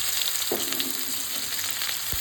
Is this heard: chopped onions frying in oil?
yes